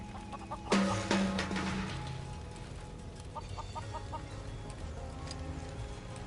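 Hens cluck softly in the video game Final Fantasy VII Rebirth, a few short clucks and a louder burst near the start, then scattered faint calls over a steady ambient farm background.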